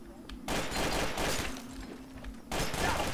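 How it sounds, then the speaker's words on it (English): Video game gunfire in dense, sustained bursts that stop briefly and resume, loud and close, with faint voices underneath. "Alex, why are you shooting?"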